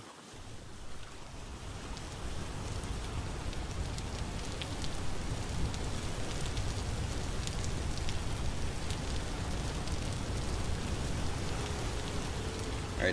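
Steady rain falls in the blocky survival game Vintage Story over a foggy river valley, a constant, soft hiss of drops with no pauses, faint and even throughout.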